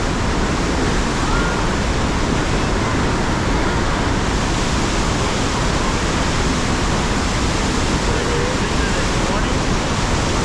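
Ohiopyle Main Falls on the river at high water, almost 14 feet: a massive unbroken roar of rushing, crashing water filling the whole range, loud and constant from start to finish.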